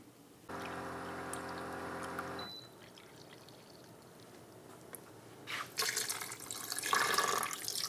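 Water poured into a pressure cooker to about an inch deep, a steady close pour lasting about two seconds, followed by quieter handling clatter and a louder rush of running water near the end.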